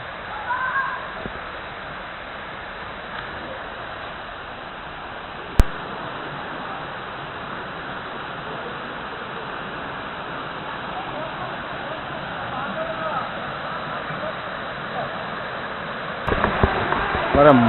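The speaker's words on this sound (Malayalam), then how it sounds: "അതിൻ്റെ അടിയിൽ കൂടെയാണ് ഈ ഒരു വെള്ളച്ചാട്ടം ഇങ്ങനെ ഒഴുകി പോകുന്നത്." Steady broadband rush of a waterfall flowing beneath a spot in the Achankovil forest, constant and moderately loud throughout, with a brief sharp click partway and some louder rustling near the end.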